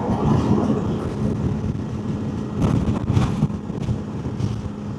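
Kawasaki KLE500 SE motorcycle engine at just over 6,000 RPM while riding, a steady loud droning hum with wind buffeting throughout, swelling slightly midway.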